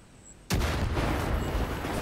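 A grenade blast in the Far Cry 5 video game, a sudden loud boom that cuts in sharply after a quiet moment and leaves a long rumbling, crackling tail.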